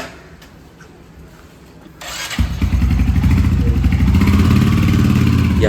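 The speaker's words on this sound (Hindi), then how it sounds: "और ये निकाली अपनी बाइक और चल दिए।" A motorcycle loaded for a long ride is started after a quiet idle, its engine catching abruptly and settling into a loud, close, throbbing run as the bike sets off; no talk.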